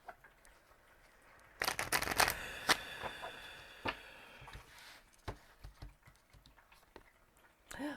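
A deck of cards is shuffled in a quick crisp burst of riffling, followed by scattered soft taps and handling noises in a quiet room.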